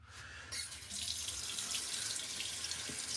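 Warm water runs from a tap during a wet shave. After a brief quieter moment it becomes a steady, even splashing stream, close and moderately loud, with no talking.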